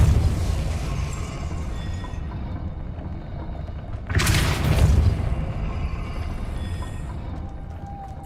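Depulso spell cast in the video game Hogwarts Legacy, a sudden whooshing burst of force rising out of a steady loud rumble of game ambience, lasting about a second before settling back into the background drone.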